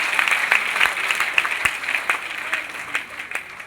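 Loud audience applause at a financial freedom seminar, many hands clapping with distinct sharp claps standing out from the dense rattle, fairly close and sustained throughout.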